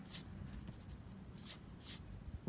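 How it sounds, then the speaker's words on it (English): An eraser rubs out pencil guidelines on a Celtic knot drawing on paper, giving three brief close scrubbing bursts over a quiet background. "all you need to do is erase your guidelines"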